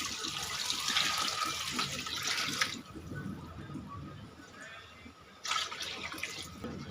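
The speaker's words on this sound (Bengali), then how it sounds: "এবার আমি পানি অ্যাড করে দিব।" Water pours into a pot for beef and vegetable khichuri, a close, rushing splash in two bursts separated by a quieter stretch.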